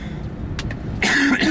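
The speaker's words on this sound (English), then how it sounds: "sorry about the coughing" A single man gives a short rough cough, with a throat-clearing sound just before it, close and fairly loud over low outdoor background noise.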